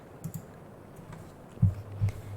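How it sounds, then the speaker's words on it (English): Soft clicking of keys on a computer keyboard, a few quiet scattered taps with light thuds rather than steady fast typing, close and faint in an otherwise hushed room. "I could do some keyboard sounds if you like them."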